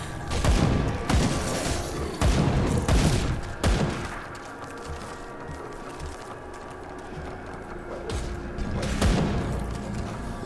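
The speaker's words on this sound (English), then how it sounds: "God, I love those grenades." Grenade explosions from the action role-playing game Grim Dawn sound as several loud, sharp booming blasts spread across the stretch, with quieter rumbling game ambience between them.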